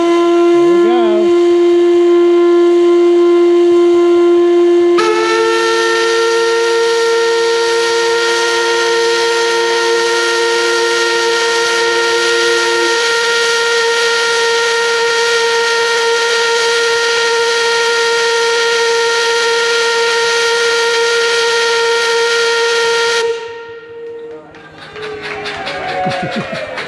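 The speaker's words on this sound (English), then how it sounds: "getting ready to pull the steam whistle for the lunch break" A loud sawmill steam whistle blows a long, steady, piercing tone for over twenty seconds, shifting pitch briefly early on before cutting off abruptly.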